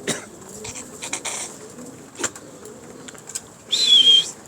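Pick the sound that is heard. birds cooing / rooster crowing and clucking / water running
birds cooing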